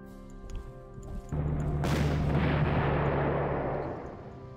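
Artillery fires in the strategy game Panzer Corps, a heavy booming blast that swells into a long rumbling roar and slowly fades over several seconds, heard alone without talk.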